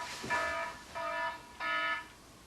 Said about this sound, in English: Okay, timer's done.